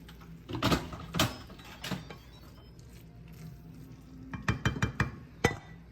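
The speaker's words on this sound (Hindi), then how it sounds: "एक दफ़ा चलाते भी हैं और फिर चेक करते हैं" Spoon stirring bottle gourd sabzi in a cooking pot, a few scraping clinks early on, then a quick cluster of sharp metallic taps, over a low background hiss.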